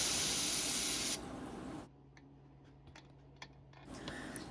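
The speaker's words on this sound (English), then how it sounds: "I will use canned air to remove any remaining IPA or uncured resin from inside the figure by spraying air into the drain holes." Close, loud hiss of canned air blasting into the drain holes of a 3D printed resin figure in two bursts that stop abruptly, followed by quiet with a few small clicks and taps before spraying resumes at the end.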